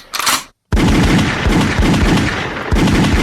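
A gunshot sound effect played on a hip-hop radio show: one sharp shot, a brief silence, then a loud, rapid burst of automatic gunfire with repeated echoing booms.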